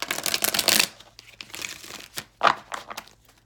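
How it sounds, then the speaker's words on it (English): Tarot cards being shuffled by hand, a burst of dry papery riffling and crinkling up close, then a few softer rustles and one more sharp flurry, with no talking. "let me just do another shuffle real quick"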